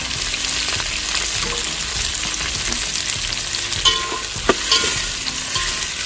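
Onion and tomato sautéing with a little salt in a pan for ghee rice, giving a steady, close hiss of sizzling broken by occasional scrapes and taps of stirring.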